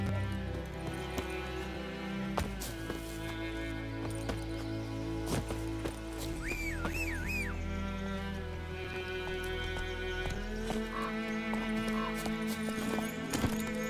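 Horse hooves beat a steady clip-clop rhythm in The Witcher 3, running under a dense bed of game music and ambience with a brief whinny-like tone midway.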